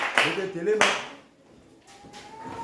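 A church congregation applauding the Lord, a couple of loud claps close by, then fainter clapping, with voices briefly heard.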